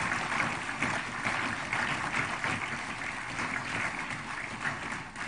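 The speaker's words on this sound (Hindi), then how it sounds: "हमारी तालियों की गड़गड़ाहट उन तक पहुंचती रहे।" Sustained audience applause fills a formal ceremony hall at the Maharashtra Legislative Council in the presence of India's President, with steady dense clapping at moderate distance and no talk.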